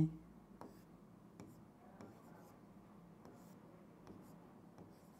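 Chalk or a marker taps and scrapes on a board during a Bengali chemistry lesson on bonding, making soft, regular strokes close by under a faint voice.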